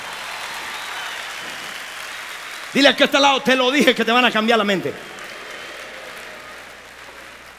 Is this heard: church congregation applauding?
yes